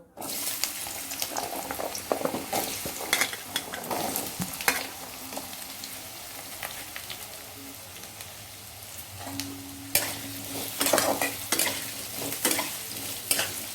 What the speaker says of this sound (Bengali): কড়াতে তেল দিয়েছি, তেলটা গরম হয়ে গেছে। এবার আলু ভাজতে দিয়ে দেবো।